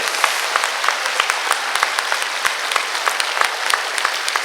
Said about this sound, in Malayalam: ഒന്ന് കൈയടിച്ച് മക്കളെ, കൈയടിച്ച്